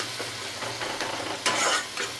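Brinjal and small potatoes sizzle in oil in a pan with whole cumin and a chili, a steady close hiss broken by short stirring scrapes and a louder burst of frying near the end.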